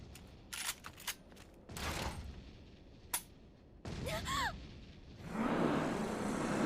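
Gunfire from the Gurren Lagann anime, episode 2: scattered sharp shots and bursts alternate with a swelling rush of noise and a brief whistling tone, all fairly quiet and mixed with other soundtrack effects.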